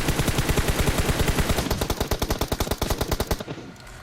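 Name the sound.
DP machine gun firing in video game PUBG Mobile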